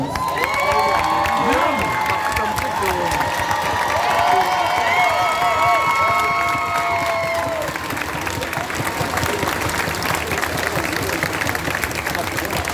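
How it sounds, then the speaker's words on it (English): An audience at a live show claps and cheers loudly and continuously, with whoops and children shouting mixed into the steady wash of applause. "Give them a round of applause."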